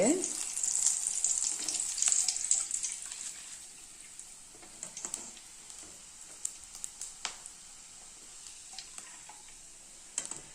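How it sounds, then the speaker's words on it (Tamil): Flattened rice (aval) frying in hot oil for a mixture snack, a loud bubbling sizzle at first that settles into quieter crackling with scattered sharp clicks and pops. "நம்ம அவுள் பொறிச்சு எடுத்துக்கலாங்க நல்லா எண்ணெய் காஞ்சா தான் டக்குன்னு வச்சோன்னு நமக்கு புரிஞ்சிருங்க"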